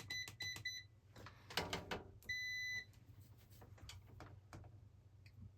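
Short electronic beeps from a multimeter continuity test on a laser ball pinball board, several quick chirps and one longer steady tone, with faint clicks and handling noise.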